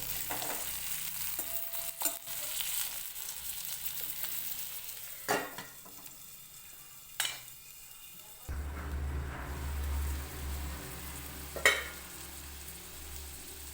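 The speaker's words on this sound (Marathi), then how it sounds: "कांदा इथं तेलात मध्ये शिजून देते" Chopped onion frying in oil beside brinjal pieces for a spicy curry, giving a continuous soft sizzle with a few sharp utensil knocks and clunks, close by and without talk.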